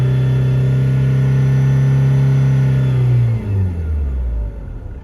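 A car's diesel engine holds a high steady rev, then drops back down toward idle with a descending drone, loud and close with no talking.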